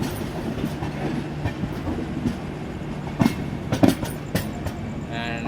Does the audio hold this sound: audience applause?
no